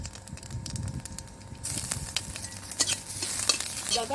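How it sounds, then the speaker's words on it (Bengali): Mung dal tempering in hot oil makes a continuous sizzle and crackle, with stirring scrapes and clinks that grow louder in the second half. No one speaks. "মুগ ডাল ফোড়ন দিচ্ছি"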